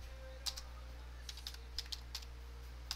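Keys on a computer keyboard are struck in scattered bursts, a few sharp clicks at a time with short pauses between, close and fairly quiet over a low steady hum.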